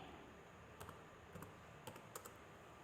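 Keys on a computer keyboard are struck in a few faint, scattered clicks that sit under a steady background hiss.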